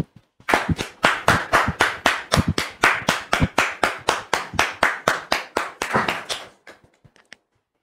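An audience claps in steady unison for the arrival of Pastor Jean de Dieu: about two dozen loud, evenly spaced claps, close and clear, before stopping abruptly with a few stray taps.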